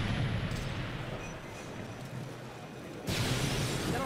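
Grenade blasts from Modern Warfare 3 gameplay, a dense, continuous rumble of explosions that dips slightly mid-clip and then surges back louder near the end, with no speech.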